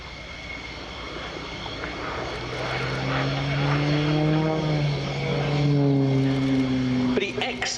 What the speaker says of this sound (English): Again, the speed decreases and the aircraft goes into a tail slide.